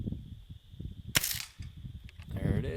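A Daisy 880 BB gun fires at a pop can with a single sharp, close crack, followed by a faint tick and some light handling noise.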